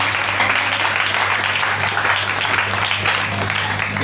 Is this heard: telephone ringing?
no